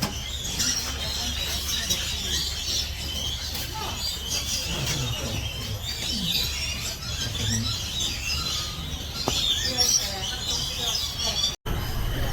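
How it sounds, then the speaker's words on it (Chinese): Small birds at Jurong Bird Park in Singapore chirp and twitter in a steady high-pitched stream across the whole stretch, with no voices over it. "刚刚出来了，还蛮有趣的这些小鸟。"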